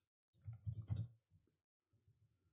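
A short burst of quiet, rapid keyboard clicks as text is typed on a computer, followed by a pause and a few fainter, scattered keystrokes.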